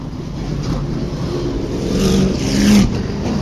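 Outlaw Super Late Model race cars roar around the dirt oval at Springport Motor Speedway, a loud continuous engine drone that swells slightly as the field passes during the second lap.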